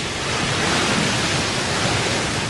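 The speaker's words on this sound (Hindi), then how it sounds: "पानी के इस उफनते गरजते दानव में हजारों घोड़ों की शक्ति होती है।" Roaring tidal bore surging up the Qiantang River, a dense, steady broadband rush of churning water, loud and close, with no voices.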